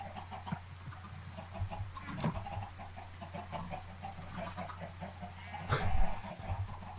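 Chickens clucking in a Steampunk modpack video game, several birds with scattered, overlapping clucks and squawks over a steady low hum, one louder burst near the end.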